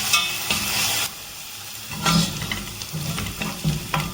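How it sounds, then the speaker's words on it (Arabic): Garlic fries in a pan with a bright sizzling hiss that rises and falls as it is stirred, with soft scraping bursts between the sizzle. "هحمر بقى الثوم بتاعي"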